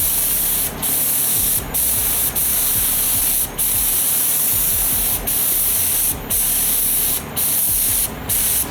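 A paint spray gun lays a sealer coat onto a car, close and loud, with a steady hissing spray broken by short gaps as the trigger is released, about eight passes.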